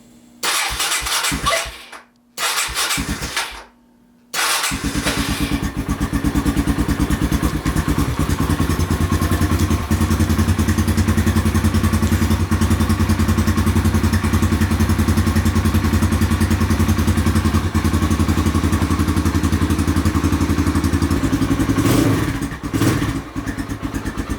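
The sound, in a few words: Kawasaki KLX140 dirt bike engine running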